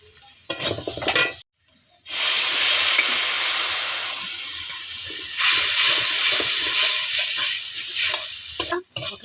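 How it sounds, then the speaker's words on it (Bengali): A spice paste of onion, ginger, garlic, turmeric and chili fries in a pan with a loud, steady sizzle and hiss. It breaks off briefly near the start, then resumes, with occasional stirring sounds. "মশলাটা ভাজা ভাজা হয়ে গেছে"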